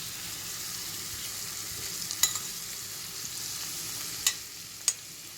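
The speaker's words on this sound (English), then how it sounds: "This has been sauteing on low." Onions for a South African Indian chicken curry sauté quietly over low heat, a soft steady sizzle with a few sharp clicks of stirring near the end.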